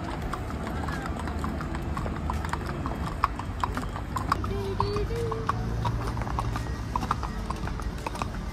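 Horse hooves clip-clop steadily during horseback riding in Baguio City, a close, regular beat of sharp knocks on hard ground with people talking faintly in the background.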